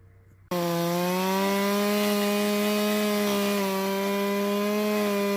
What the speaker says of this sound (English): I've fueled up the chainsaw.